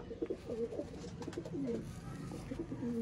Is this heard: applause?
no